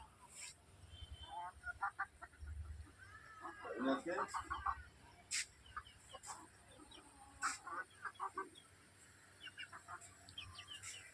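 Chickens in a yard clucking and calling while running about, scattered short clucks throughout, with a person talking over them and a low rumble underneath.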